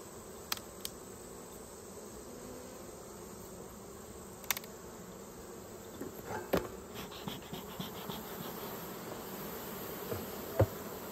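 Honey bees buzz faintly and steadily around an open hive being sealed with propolis for winter, with a few sharp clicks and taps of hive tools rising over the drone.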